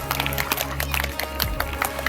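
Students clap for Satpura House at a school sports day prize distribution, a dense, continuous patter of many hands across a crowd, with low hum and murmur beneath.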